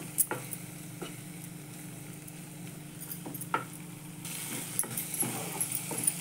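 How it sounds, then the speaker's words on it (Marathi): Tomato-onion gravy with a few cashew pieces sautéing in a pan gives a low, steady sizzle, broken by intermittent scrapes and taps of a spoon stirring, close by with no talk. "ग्रेव्हीमध्ये हे 2-4 काजूचे तुकडे टाकते. चांगली परतू द्यायची."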